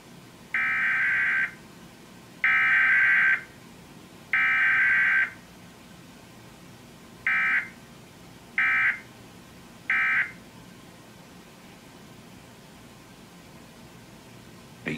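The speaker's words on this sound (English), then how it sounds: "following is a test of the emergency alert system." Emergency Alert System test tones on a Dallas–Fort Worth broadcast station: three longer tone bursts followed by three shorter ones, clean and evenly spaced against a quiet background.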